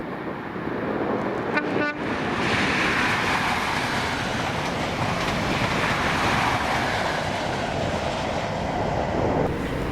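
A Class 43 HST train with power cars 43168 and 43125, running Inverness to Edinburgh Waverley, roars past close by with a loud sustained engine and wheel rush, after a brief horn toot near the start.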